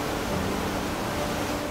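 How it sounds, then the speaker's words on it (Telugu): Katiki waterfall in Araku Valley, water plunging from about 50 feet, heard as a steady, dense broadband roar that fills the whole stretch without a break. "సుమారు 50 అడుగుల ఎత్తు నుంచి నీరు ఒక్కసారిగా కిందికి పడుతూ తెల్లటి పొగల చినుకులు"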